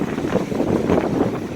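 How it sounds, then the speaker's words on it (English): Wind buffets the microphone outdoors in a garden with a low, continuous rumble that rises and falls slightly, with no clear voices over it. "I don't know if this was a good idea because it's awfully windy"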